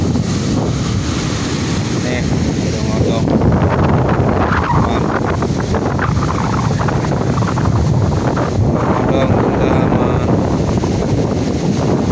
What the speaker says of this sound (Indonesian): suara ombak sudah keras banget sampai rumah